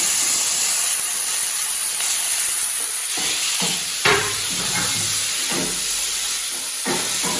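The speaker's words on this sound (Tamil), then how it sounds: "ஸோ இப்போ நம்ம தக்காளி ஆட் பண்ணிடலாம்." Tomatoes tipped into a pan of golden fried onions for a home-style dhal, giving a steady close hiss and sizzle with occasional stirring scrapes and clatters, no talking.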